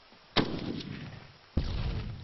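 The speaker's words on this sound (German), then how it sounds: "Oh, Explosion, linke Flanke." Two sharp explosions in ARMA 3 gameplay, each a sudden loud blast trailing into a rumbling decay, about a second apart.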